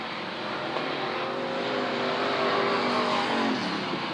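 Race cars and super trucks circle a slick speedway track at Southern Oregon Speedway, engines roaring loudly and continuously as several vehicles accelerate and pass, with no speech.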